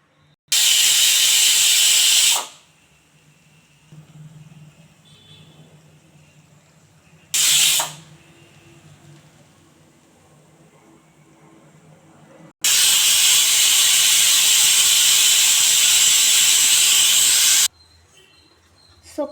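A pressure cooker holding greens and dal whistles and vents steam on a gas stove, with three loud, broad hissing bursts of about two, one and five seconds each, separated by quieter stretches of low bubbling hum, with no talking.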